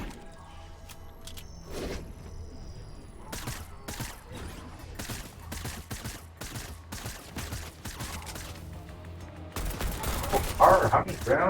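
Gunfire in a video game, rapid shots and bursts that rise louder toward the end, heard alongside game sounds and speech.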